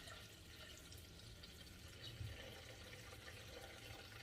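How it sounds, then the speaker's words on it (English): Water poured into a container of sea moss to cover it for making sea moss gel, a faint, steady trickling and splashing pour close to the mic, with a slight surge partway through. "And then I'm gonna put water in it to cover the sea moss."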